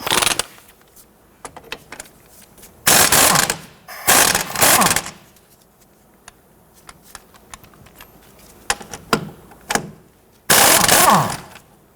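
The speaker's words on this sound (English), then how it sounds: "use a 22mm wrench to hold this side while you loosen the nut" Wrench work on the 22mm nuts of the strut bolts on a 1992-1996 Toyota Camry front suspension: clustered bursts of metallic clicking and ratcheting, several loud rasping spells separated by quieter tapping and handling sounds, with no talk.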